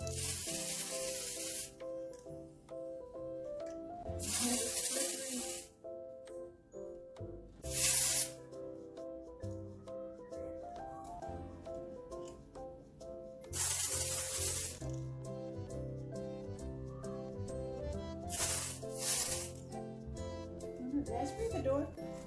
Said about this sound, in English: So much of the spray.